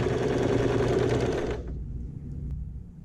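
A sewing machine stitches patchwork squares in a quick, dense run of needle strokes, loud and close, stopping abruptly after about a second and a half and leaving a faint quiet hum.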